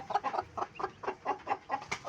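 Newly hatched chicks, a desi and Fayoumi crossbreed, peep in a quick irregular series of short calls, close and fairly soft, with no talking.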